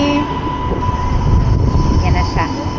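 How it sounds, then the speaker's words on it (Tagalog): Loud rumble of a train pulling into a station in Israel, a steady mechanical roar with brief whistling squeals near the end, heard up close on the platform. "Eto na yung train."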